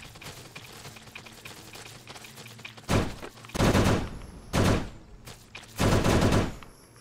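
Bursts of rapid gunfire in a top-down zombie survival video game, four loud separate volleys of about a second each over a quieter busy game background.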